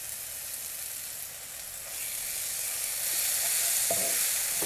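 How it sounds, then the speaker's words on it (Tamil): Onions and chicken sautéing in a pan as ginger garlic paste goes in for a beetroot chicken dish, a steady close sizzle and frying hiss that grows slightly louder partway through, with faint stirring clicks and no talking. "இந்தமாரி வதங்கினதுக்கப்புறம் இதற்கு தேவையான அளவு இஞ்சி பூண்டு விழுது."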